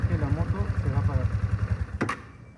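A Keeway Vieste 175 scooter idles with a steady low pulsing throb that cuts out abruptly as its kickstand is lowered, followed by a brief metallic clunk and near silence; someone talks over the running engine.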